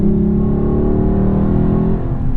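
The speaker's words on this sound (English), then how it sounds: "that's a nice automatic downshift" A 2018 Lexus LC 500 with an automatic transmission downshifts, its engine note rising in a loud, close rev that climbs and then settles within a couple of seconds.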